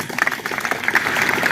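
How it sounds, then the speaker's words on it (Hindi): A crowd gives a brief burst of clapping at a school Teacher's Day celebration, steady and enthusiastic throughout. "जोरदार तालियां भाई।"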